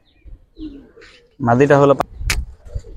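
Giribaz pigeons in a loft give a short throaty coo, with a few faint chirps and light background noise around it.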